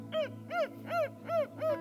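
A small female dog whimpers in pain, giving five high, whining cries in a steady rhythm, each rising and falling. The cries are close and clear, with no talking.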